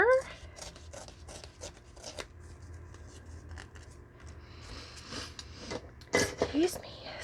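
A journal page is ripped out by hand, giving short, crackling tears spread through a quiet room, with a person talking and a loud sniffle or sneeze near the end.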